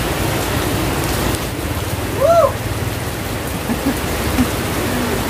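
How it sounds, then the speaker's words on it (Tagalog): Heavy rain pours steadily and close by as broadband hiss, with one brief whooping voice over it and a few faint chirps in the background. "Grabe lakas ng ulan, no?"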